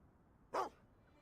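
A dog in the Fable 2 video game gives a single short, sharp bark, loud and close, standing alone against a quiet game background.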